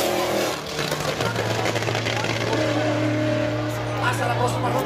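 Race cars launch together from a drag-strip start line, engines roaring loudly and steadily with a sustained low drone, while a commentator talks over them.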